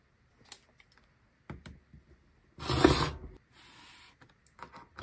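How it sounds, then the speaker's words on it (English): A rotary cutter slices a sewn quilt block along a ruler, with a short loud scraping pass and a fainter second stroke, surrounded by sparse clicks and taps from handling the fabric and ruler. "you're going to take your ruler and a rotary cutter and you're going to split the block on the line"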